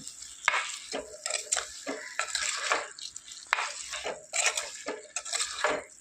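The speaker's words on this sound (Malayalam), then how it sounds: "നന്നായിട്ടൊന്ന് ഇളക്കി യോജിപ്പിക്കാം." Rose apple pickle stirred and mixed in a vessel, giving a steady run of close, wet scraping and clinking strokes with short pauses between them.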